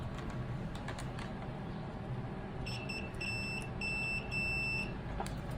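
A multimeter's continuity tester beeps while probing a PlayStation 4 Pro circuit board, giving several short high beeps in a quick cluster and then a longer tone, heard clearly over a low background hum.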